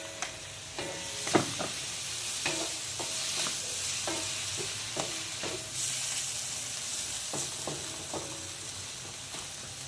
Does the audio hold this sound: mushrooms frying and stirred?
yes